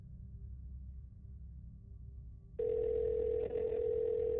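A telephone line hums faintly under a low background drone, then a loud steady dial tone cuts in and holds until the end.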